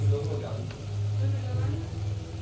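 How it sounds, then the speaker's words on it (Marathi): Onion, gram flour and spices fry in a pan for a brief moment, a soft sizzle beneath a low steady hum, with no clear voice over it. "त्यात आपण बेसन टाकून घेऊया. ते व्यवस्थित भाजून घ्यायचं."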